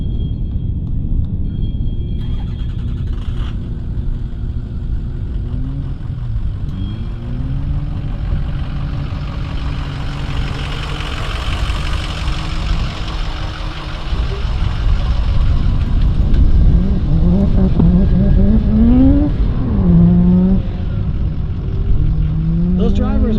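A Mazda RX-7 race car runs hard, its engine giving a low, continuous rumble with rising rev sweeps that swell louder toward the end, under ongoing commentary.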